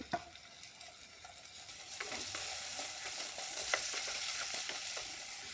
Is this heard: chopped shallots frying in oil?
yes